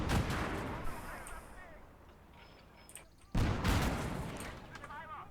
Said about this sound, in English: They are actually bringing artillery.